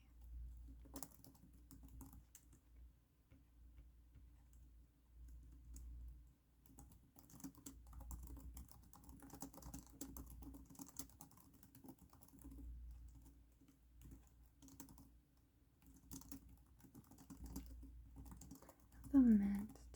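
Soft, quiet tapping on a computer keyboard in a close, calm room, irregular clusters of keystrokes continuing throughout, with a brief spoken sound near the end.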